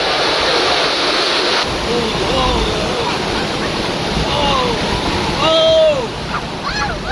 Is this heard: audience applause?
no